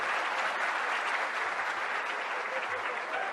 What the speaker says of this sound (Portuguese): Aplaudir.